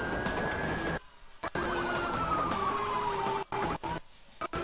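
A train rolls past in the Watch Dogs video game, its wheels squealing with a long high screech that slowly bends downward over a steady rumble, broken by several sudden cutouts.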